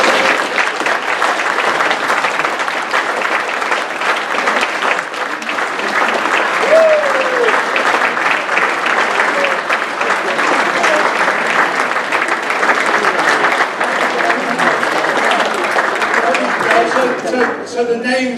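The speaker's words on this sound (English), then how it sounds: "so give them a round of applause." Dense, steady applause from a large audience fills the whole stretch as students in burgundy blazers at a prep school are welcomed, the clapping holding loud and even without a break, a brief whoop near the middle.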